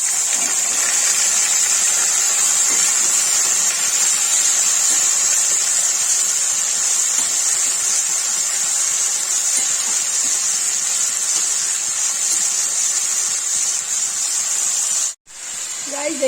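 A steady loud sizzling hiss of potatoes frying in hot oil with cumin continues for a long stretch, close up, with a brief clatter near the end.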